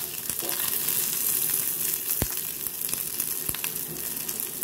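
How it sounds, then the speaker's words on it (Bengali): Garlic cloves frying in hot oil after green chillies, a steady close sizzle throughout with a few sharp clicks of a utensil against the pan. "এবার এই তেলের মধ্যেই আমি রসুনগুলোকে দিয়ে দিচ্ছি।"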